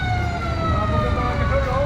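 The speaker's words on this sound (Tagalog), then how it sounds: "mga kabarangay, ang bumbero na talagang kailangan makarating sa pinangyarihan ng sunog" A fire truck siren wails near a burning building, with rising and falling tones held over steady traffic and engine rumble.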